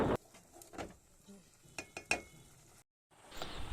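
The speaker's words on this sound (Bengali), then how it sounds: "তো ঢেলে দেওয়ার পর একটু নাড়াচাড়া করতেছি।" Boiled potatoes are stirred into spices in a pan, with a few scraping stirs and light clinks of a utensil against the metal and a soft background sizzle.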